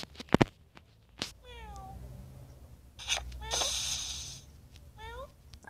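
A cat meows several times in short rising-falling calls, close by, among handling knocks and rustles, with a person speaking at moments.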